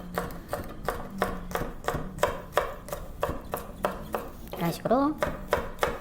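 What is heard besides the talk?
knife slicing vegetables thinly on a cutting board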